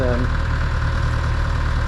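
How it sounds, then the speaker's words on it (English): A hire boat's engine on the Norfolk Broads, a Brinks Duet 3, drones steadily at close range, a low, even idle hum that holds after the throttle is released. "I've let go of the throttle now, you can hear the engine tone change."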